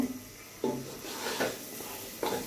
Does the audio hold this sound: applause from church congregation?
no